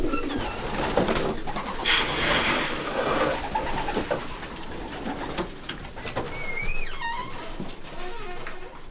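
Homing pigeons cooing inside a racing loft, soft repeated coos and rustling, with several sharper chirping calls later, close up under general loft bustle.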